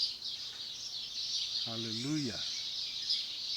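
Birds sing at daybreak outdoors, a constant faint high-pitched chorus of chirps running throughout, while a voice briefly speaks over it.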